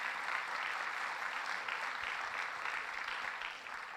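Audience applause for a state DEC commissioner at a Governor Cuomo funding announcement for Cayuga and Oswego counties, a steady, fairly faint patter of many hands clapping at a distance for about four seconds.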